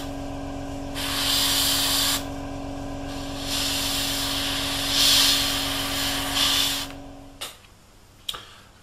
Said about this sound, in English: And there we go, all done, all sprayed in.